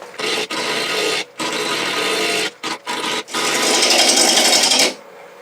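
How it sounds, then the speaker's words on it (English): A spindle roughing gouge cuts dry, very hard Bradford pear on a lathe, producing a loud, continuous rasping scrape in several long passes separated by brief pauses, ending abruptly, with no talking. "I'm going to rough it out with a spindle roughing gouge."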